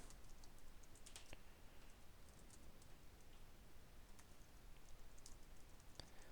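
Code is typed on a computer keyboard in quick, faint clusters of light key clicks, with short pauses between bursts and no talking.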